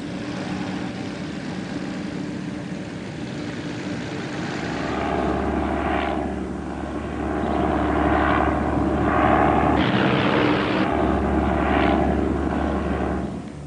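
A Douglas A-1 Skyraider propeller plane with a radial piston engine drones steadily and loudly nearby, its rumble deepening and swelling as it passes, with no voices.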